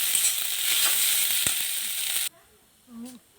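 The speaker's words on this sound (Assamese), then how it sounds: "তাৰপিছত এতিয়া এনেকৈ ভাজি আছোঁ" Moringa flowers fry in a pan with a loud, close, steady sizzle for about two seconds before cutting off abruptly, followed by near silence with a faint short sound.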